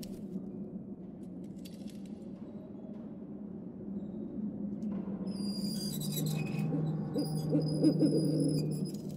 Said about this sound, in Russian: А, это сова прилетела.